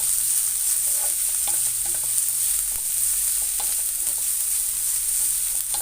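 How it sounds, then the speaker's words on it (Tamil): Capsicum, cabbage, carrot and beans sautéed in a hot pan for a vegetable noodle soup: a loud continuous sizzle with scraping, stirring strokes of a spatula throughout, close and uninterrupted. "குடமிளகா, கேபேஜு, கேரட், பீன்ஸு எல்லாம் போட்டுக்கலாம். நம்ம எல்லாத்தையும் சேர்த்து நல்லா வதக்குங்க."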